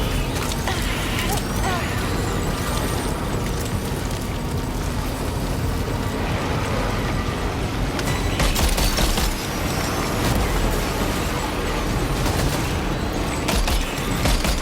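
Dense gunfire from the video game Death Stranding 2 on brutal mode, a continuous barrage of rapid shots and blasts layered over heavy rumbling noise throughout.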